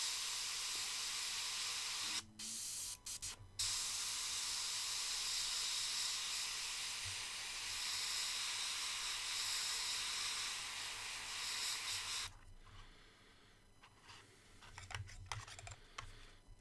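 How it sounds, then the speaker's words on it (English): Airbrush spraying paint gives a steady, soft hiss that runs for about twelve seconds, broken by a few brief clicks early on, then cuts out, leaving quieter handling noises. "I'm just going to airbrush a bit in the middle"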